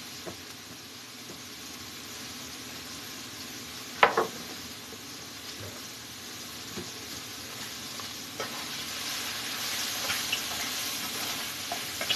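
Sliced onions caramelizing in a hot pan give a steady, soft sizzle throughout, with a sharper clatter of stirring early on and occasional small pops, close and fairly quiet.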